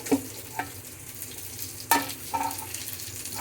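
Mangalore-style fish curry gently stirred and turned in a pan, soft scraping strokes and a couple of clinks over a steady faint sizzle, close up with no voices.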